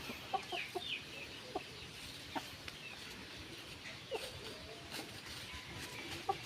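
Aseel chickens cluck in a small poultry yard, with scattered short, faint clucks and chirps at irregular intervals over a quiet background, and no one speaking.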